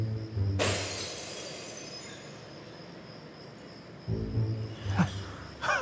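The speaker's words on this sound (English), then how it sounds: "Go on here, bottle smash." A glass bottle smashes with a sudden loud crash, followed by a long trail of tinkling shards and ringing fading away, then muffled thumps and movement near the end; no talking.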